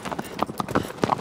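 Horse hooves clip-clop in Shadow of the Colossus (Remastered), a quick, uneven run of sharp close knocks at a walking pace.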